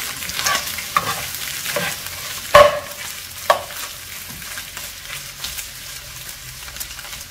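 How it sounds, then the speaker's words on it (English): Bitter melon and egg stir-fried in a pan, with a loud close sizzle under repeated scraping and stirring strokes and a few sharp knocks of the utensil against the pan, and no talking. "now let's mix our bitter melon"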